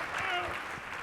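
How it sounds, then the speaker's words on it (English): Brief round of applause from an audience at an inventors' showcase event, a soft, distant wash of clapping with a voice speaking faintly over it. "So Ben, thanks very much, and round of applause for Ben."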